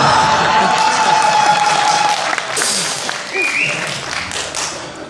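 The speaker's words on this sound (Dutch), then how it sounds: "maar een applaus voor de nummer 1" Applause and cheering from a crowd at a live Dutch stage show, hailing the number-one act; a dense, steady roar of clapping that thins slightly toward the end, with a few voices and a whistle rising above it.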